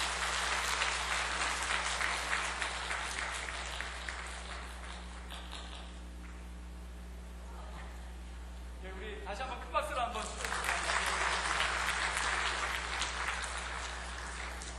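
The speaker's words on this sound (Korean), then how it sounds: "우리 다시 한번 큰 박수로 축복해 주시길 바랍니다." Congregation in a church service applauds to bless a baby, broad sustained clapping that thins midway to lighter patters before swelling again, over a low steady hum.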